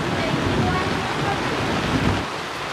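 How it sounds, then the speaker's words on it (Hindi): Rain falls outdoors in a rural Indian village where vegetable chowmein is being cooked. A dense, steady hiss of rainfall fills the whole stretch at a fairly loud, even level. "बारिश भी हो रही है"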